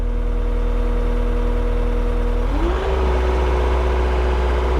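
A car engine idling steadily with a low tonal drone, then revving up partway through and holding at a higher, rougher pitch, loud and close with no talking.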